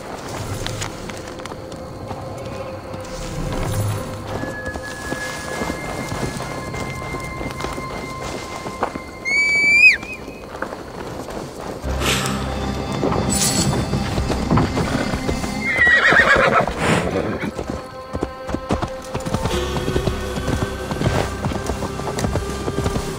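Horses in Assassin's Creed Valhalla: steady clip-clop of hooves with a sharp neigh and whinny partway through, set against low rumbling ambience and weather sounds, no talk.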